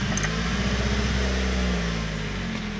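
A Chevy C2 car engine just started, idling with a steady low hum and rhythmic pulsing, loud and close, with a short high tick near the start and no talk.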